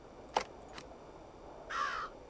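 A crow caws in the video game Root Of Evil: The Tailor: two faint clicks come first, then a single hoarse, drawn-out caw at moderate volume with no voices over it.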